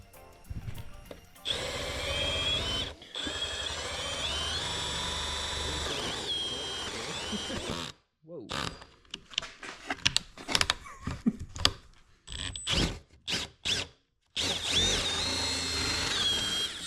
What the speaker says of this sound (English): Gonna drill the hole here in a second.